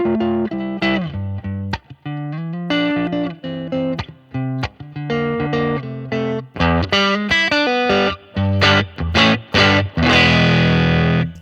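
Electric guitar played through a BOSS GT-1000 on its Dirty Tweed preset, a loud, driven crunch tone with choppy chords and short phrases played alone with no talk.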